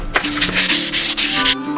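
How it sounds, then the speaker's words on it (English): Close, loud 240-grit sandpaper strokes sanding paint, rasping back and forth in a quick rhythm, about half a dozen scrubbing passes. "I'll be sanding the paint now with a 240 grit"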